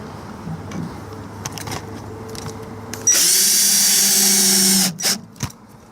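A power drill runs in one loud, steady burst of about two seconds, driving a screw while a tankless water heater is installed in a travel trailer, with softer clicks and taps before and after.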